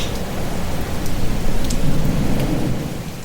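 Heavy rain hisses steadily outside a small boat's cabin, with a low rumble of thunder swelling through the middle and fading toward the end.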